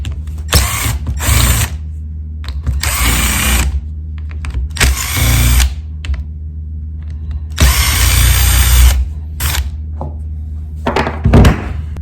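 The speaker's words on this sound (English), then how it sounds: "You're going to remove these screws." A power drill whirs in several loud, close bursts while backing out screws from the handle area of an Echo weed trimmer, with brief ratcheting clicks and handling noise between runs.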